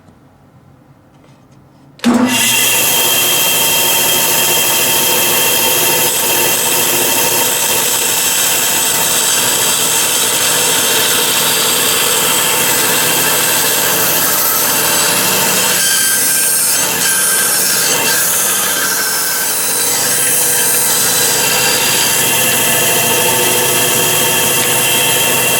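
A power saw cuts steadily through taped-together pieces of stock for a brush holder, a loud continuous whine that kicks in abruptly after a quiet moment and runs without pause, with no talking over it.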